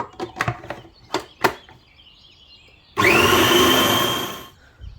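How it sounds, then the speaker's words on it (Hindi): A mixer grinder grinds raw potato and onion in one loud burst of roughly a second and a half, with no talking. Several sharp knocks or taps come before it. "इसमें मैंने आलू और प्याज को ग्राइंड कर लिया है"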